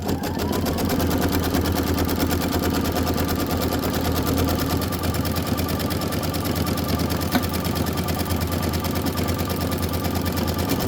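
An embroidery machine runs a background tack-down stitch on a bench pillow project, a steady rapid mechanical chatter of needle strokes with a constant low motor hum, continuous and close.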